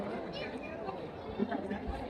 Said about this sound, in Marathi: आजची गर्दी आहे.